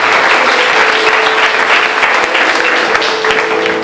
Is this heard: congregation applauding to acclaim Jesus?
yes